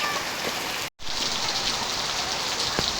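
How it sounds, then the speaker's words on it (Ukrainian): Rain falls steadily in a dense, even hiss, interrupted by a momentary cut of silence before continuing. "бо в нас такий гарний дощик падає."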